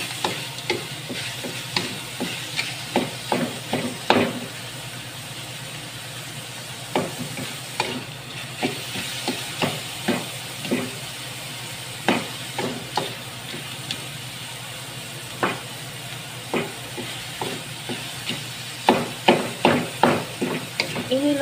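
Petai beans stir-fry in a hot pan with a steady sizzle, and a spatula scrapes and clacks against the pan in a regular rhythm throughout.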